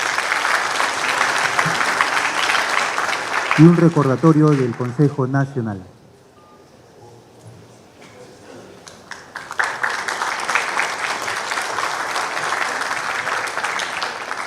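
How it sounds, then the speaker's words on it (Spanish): An audience at a forum on seismic risk in buildings breaks into loud, sustained applause, which stops for a short spoken announcement and a quiet pause, then returns and carries on steadily. "Aplausos, señores"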